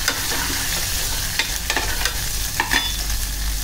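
Crushed garlic sizzles steadily in hot oil in a pan, with a few light scrapes as it is stirred, close and continuous with no talking.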